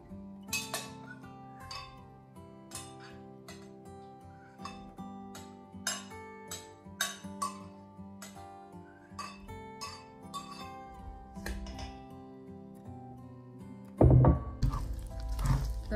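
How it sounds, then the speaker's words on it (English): Strawberries being stirred into sugar in a bowl, giving soft repeated clinks and knocks of a utensil against the bowl with wet squishing, quiet and close, ending in a louder clatter. "I'm going ahead and mix the strawberries into the sugar in the bowl."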